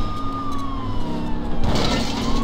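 A police siren in True Crime NYC wails in a slow falling tone over engine rumble and game noise, loud and close, with a burst of louder traffic or crash noise near the end.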